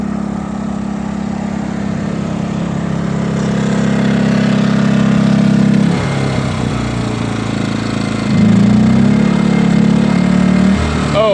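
A Predator 2000 inverter generator runs steadily with eco throttle off, a loud, close hum that shifts pitch around six seconds and again near eight seconds as the engine responds to load, with no talking.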